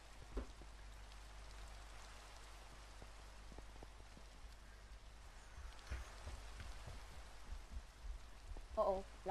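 Rain in a Minecraft survival game patters as a soft, even hiss that runs throughout, with occasional faint thuds and a short louder burst at the very end.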